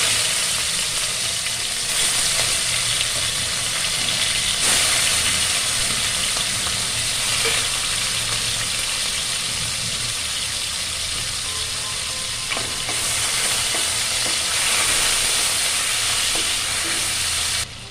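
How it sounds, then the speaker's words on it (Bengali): Shrimp fry in smoking-hot oil, a loud, continuous sizzle and hiss with occasional stirring clatter, steady and close, with no talk. "তেলে পুরো ধোঁয়া উঠে গেছে। চিংড়ি মাছগুলো দিয়ে দিচ্ছি।"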